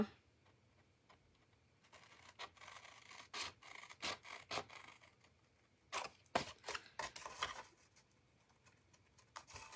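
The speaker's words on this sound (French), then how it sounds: "je vais prendre mes ciseaux" Scissors cut material for a homemade display box, giving a series of faint, crisp snips and rasping cuts in irregular bursts, close to the ear in a quiet room with no talking.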